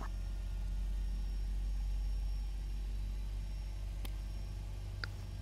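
A Boeing 767-300 jet engine spooling up during start in X-Plane 10, a steady low rumbling whine held throughout at moderate level, with a couple of faint clicks near the end.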